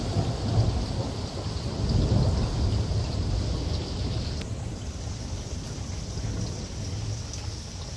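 Thunder rumbling during a rainstorm, a deep continuous roll that peaks and slowly fades while steady rain hisses loudly throughout, close and without voices.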